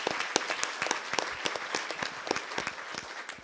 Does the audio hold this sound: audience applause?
yes